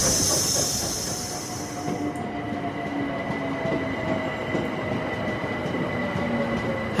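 Train pulling into Hackney Station in London, a loud steady rumble of wheels on rails with a high hiss fading early and faint tonal squeals, close and continuous without voices.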